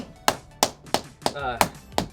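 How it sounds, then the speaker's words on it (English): Tape being smashed down by hand onto a concrete floor while installing a garage door, six sharp, evenly spaced slaps close up, with a brief tearing rasp between two of them. "Smashing the tapes down so that it sticks to the concrete."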